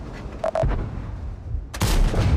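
A heavy booming IS-3 tank gun blast erupts near the end in the video game World of Tanks over continuous low rumbling engine noise, with a couple of short beeping tones earlier.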